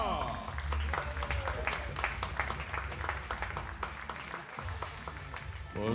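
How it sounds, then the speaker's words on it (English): Spectators at a 50 m three-position rifle final applaud, a steady patter of clapping with distinct claps throughout, mixed with a low background rumble and talk in the hall. "Big applause for Didier Richard."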